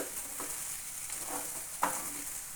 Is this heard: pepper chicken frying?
yes